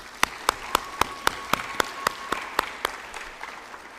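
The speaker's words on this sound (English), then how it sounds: "can we just for a second give everybody I just mentioned a round of applause?" Clapping at a Black History Month program, heard as about a dozen sharp, evenly spaced claps close by over a faint background, which slow and fade out in the final second.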